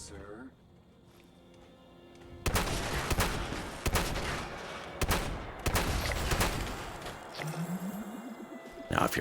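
A big cannon weapon fires in Fallout 76, heavy gunfire crashing in repeated loud bursts after a quiet opening, with sharp blasts separated by dense, rumbling volleys.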